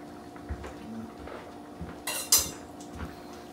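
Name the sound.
spoon stirring and tasting in a cooking pot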